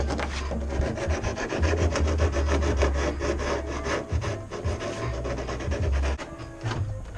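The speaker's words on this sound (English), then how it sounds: "So when you use the flapper, you don't press on it, you just glide it across." A flap disc gliding across a fiberglass car body panel makes a loud, continuous abrasive rasp with a low motor hum beneath, pulsing slightly as the disc sweeps back and forth.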